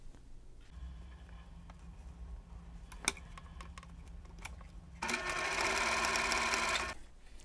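A sewing machine stitches through quilt fabric for a Christmas stocking block, with quiet intermittent clicks and taps at first, then a loud, steady run of fast needle stitching for about two seconds near the end before it stops.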